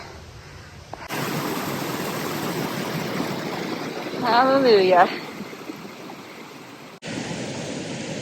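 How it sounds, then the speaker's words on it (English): Steady broadband rush of a stream flowing through a mountain meadow on the way up Hope Pass, constant and fairly close, with a short exclaimed word from a hiker over it partway through. "I can hear water over there."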